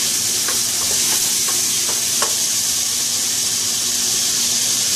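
Seasoned meat for chili sizzles steadily in a hot pan on high heat, a constant bright crackle with a few soft scraping stir strokes, close and loud, with no talking.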